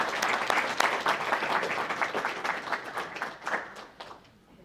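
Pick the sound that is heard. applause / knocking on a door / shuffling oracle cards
applause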